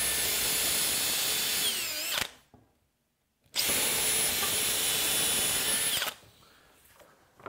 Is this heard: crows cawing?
no